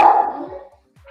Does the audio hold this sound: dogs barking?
yes